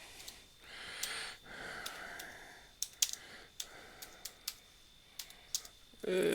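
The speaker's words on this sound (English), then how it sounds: "See? One finger typing." Slow one-finger typing on a worn computer keyboard: sparse, irregular single key clicks spaced apart, close and fairly quiet, with soft breathing between presses.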